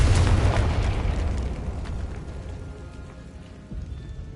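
A Confringo fire spell in the Hogwarts Legacy video game bursts with a loud, booming blast that fades into a long crackling, rain-like decay, followed by a small late thump.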